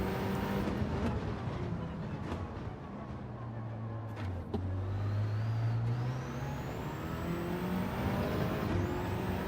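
Racing car engine in the Gran Turismo 7 video game, a steady droning roar with gear-change dips, rising and falling pitch as the car accelerates, loud and continuous throughout.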